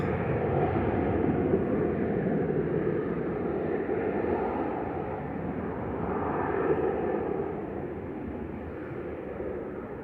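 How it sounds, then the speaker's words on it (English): Boeing 737-800 jet airliner lined up on the runway at Manchester Airport, bound for Palma, its engines giving a steady, broad roar that holds loud and even throughout with a slight swell midway. "This is flight 869 lined up, 737-800 GDRTU."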